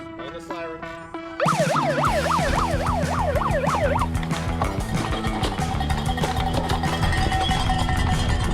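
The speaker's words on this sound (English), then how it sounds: "All right, 8 laps. On the siren." A wailing siren starts a cyclocross race, rising and falling in quick loud sweeps over a busy outdoor crowd and rider noise, after a brief quieter lead-in.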